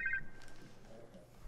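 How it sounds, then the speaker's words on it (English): Telephone ringing inside a music video being played back, a brief electronic ring tone at the start followed by fainter music-video sounds. "The phone is ringing."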